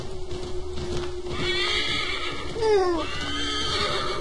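A horse in the video game Assassin's Creed III whinnies loudly with a falling, shaky neigh over the muffled clip-clop of hooves.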